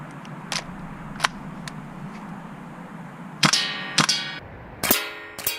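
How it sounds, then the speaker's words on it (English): Airsoft MP7 test firing, with a few sharp single shots early on and then louder, ringing cracks near the end, spaced out with pauses between them and no talking. "The Mp7 test fire."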